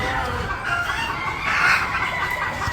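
Chickens and gamefowl roosters at a gamefarm cluck and crow close by, a dense chorus of overlapping calls with one crow rising loudest midway.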